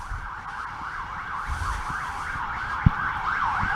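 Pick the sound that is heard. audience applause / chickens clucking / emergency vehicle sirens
emergency vehicle sirens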